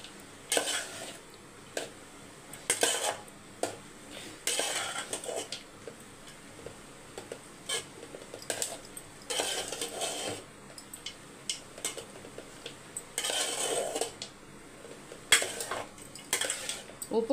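Lemon rice being mixed in a pan with a spoon, giving repeated scraping and clinking strokes in short bursts with quiet gaps between them, close by and with no voices.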